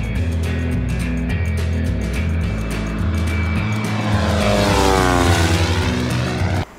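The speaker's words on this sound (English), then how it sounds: "I hear an airplane" A propeller plane drones loudly overhead, its engine pitch sweeping as it passes close by, with a steady low throb underneath.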